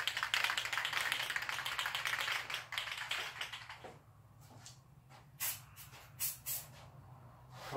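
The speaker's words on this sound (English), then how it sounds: "So I'm gonna get to work painting that undercoating on there." Undercoating is sprayed onto rusty buggy parts in a loud, close, steady hiss for about four seconds, then in a few short separate spurts.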